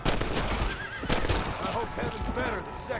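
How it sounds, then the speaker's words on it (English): A horse whinnies loudly in Red Dead Redemption: Undead Nightmare, a shrill wavering neigh close by, mixed with hoof clatter and background game noise. "Get off the horse"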